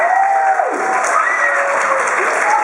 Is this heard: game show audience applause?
yes